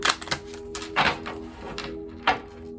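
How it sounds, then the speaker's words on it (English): Quick crisp riffling bursts of tarot cards being shuffled, a few short clattering flurries close by, with no talking. "I'm just going to do a quick shuffle."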